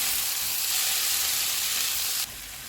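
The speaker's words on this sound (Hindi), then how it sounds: "1 मिनट के बाद टमाटर डालेंगे, इनको 2 मिनट तक भूनेंगे।" Tomatoes and green chillies fry in oil in a pan, a loud, steady close-up sizzle that drops abruptly in volume near the end, with no speech.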